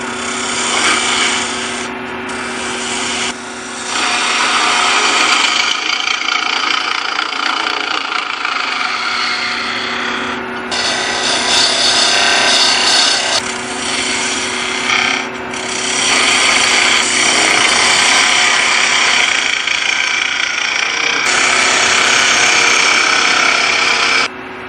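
A wood lathe spins up while a backscratcher is turned, giving a loud, steady rasping scrape of the tool on wood over the motor's hum. The cut runs continuously and only dips briefly between passes, with no talking.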